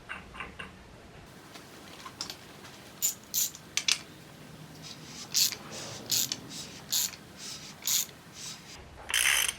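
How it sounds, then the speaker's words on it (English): An LS V8 crankshaft is turned by hand with a wrench on the old crankshaft bolt, giving a series of soft, irregular ratcheting clicks and mechanical ticks, close and fairly quiet. "So I have the old crankshaft bolt. Just gonna put that in there, use that to turn it."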